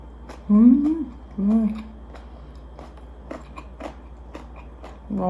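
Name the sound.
biting and chewing crunchy carrot râpée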